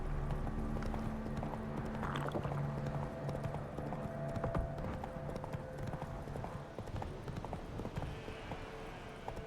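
Horse hooves clip-clop at a steady trot in The Witcher 3 game, fairly quiet and continuous, with faint game ambience and a brief snort-like sound early on.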